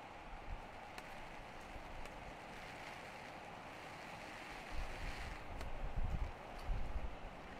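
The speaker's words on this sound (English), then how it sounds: "this is a really windy fucking rainstorm" Steady gusty wind with a hiss of rain on surfaces, swelling in rougher surges toward the end, rumbling against the microphone.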